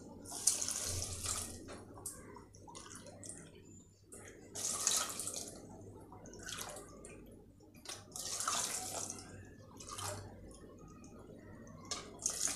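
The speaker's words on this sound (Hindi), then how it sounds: "अब इसमें हम शामिल कर देंगे पानी।" Water poured into a cooking pot for mutton yakhni pulao in a home kitchen, coming in several splashing bursts with pauses between, moderately close.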